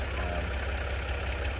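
A borrowed tractor engine idles close by with a steady, low, throbbing rumble that holds even and unbroken throughout.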